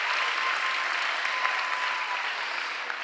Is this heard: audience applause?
yes